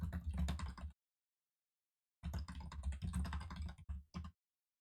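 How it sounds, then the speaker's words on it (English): Close, busy clatter of computer keyboard typing in two bursts separated by a stretch of complete silence, ending with a couple of short final taps. "I'm typing up the spoiler message because it got rid of it"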